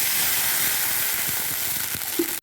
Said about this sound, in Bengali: নেড়ে চেড়ে দেবো অল্প পরিমাণ ঝোল